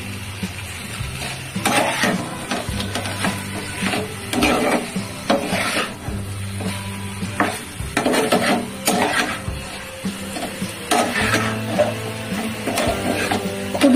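A spoon scrapes and clatters in a pan as vegetables, kohlrabi and new potatoes, are stirred into a fish curry, with a soft sizzle underneath; repeated close, irregular scraping strokes and metallic taps continue throughout.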